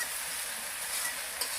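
Garlic and onion fry in a pan, a brief, quiet and even hiss of sizzling oil with one small click near the end.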